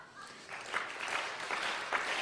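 A conference audience gives a short round of claps, a few rhythmic bursts of hand clapping at moderate distance, with no speech over it.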